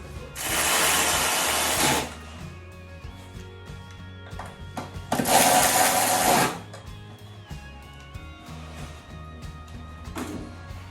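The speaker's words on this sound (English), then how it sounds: "go ahead and replace the 10mm mounting nuts on each corner of your battery bank and tighten down." Power ratchet tightening 10mm mounting nuts on a Chevrolet Tahoe hybrid battery bank, two loud buzzing whirs of about one and a half seconds each, close, with faint clinks between.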